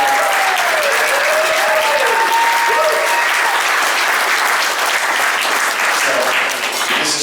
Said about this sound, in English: A huge, outstanding round of applause for the Suttons for this wonderful,